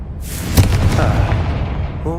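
A Confringo spell blasting open a barrier in Hogwarts Legacy, a single loud booming explosion that rumbles and fades over about two seconds, followed by a faint magical chime.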